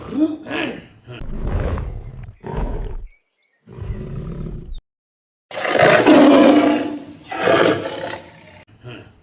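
A man imitates a tiger with several loud, close, throaty roars and growls, some long and rising, separated by short pauses.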